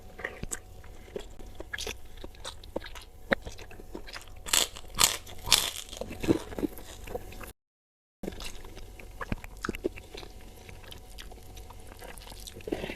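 Spicy balado tofu cooked with basil and chili being bitten and chewed up close, with repeated crunchy bites and soft mastication sounds throughout, briefly cut to silence midway, no talking.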